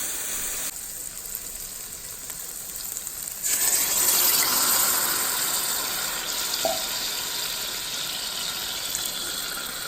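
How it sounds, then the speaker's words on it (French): Tap water gushes steadily into two tomato tins being rinsed out for a tomato sauce, growing louder partway through and running continuously close by. "Je vais rincer mes 2 boîtes avec de l'eau et les rajouter à ma sauce tomate"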